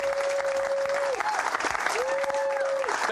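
A lively studio audience at a live show breaks into steady, dense applause that fills the whole stretch, with a sustained whistle-like tone riding on top.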